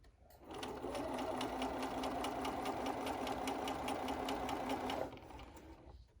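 A sewing machine stitches a seam on a fitted face mask with a wire insert, a single continuous run of rapid, even needle clatter lasting about four seconds, close and clear, starting and stopping abruptly.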